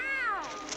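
A single short, clear cat meow that slides downward in pitch, close and distinct.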